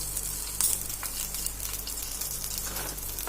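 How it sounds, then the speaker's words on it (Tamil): Urad dal, dried chillies and mustard seeds temper in hot oil with a continuous, even sizzle and faint crackling, loud and close, with no voices. "இது எல்லாமே நல்லா கடுகெல்லாம் பொரியட்டும்"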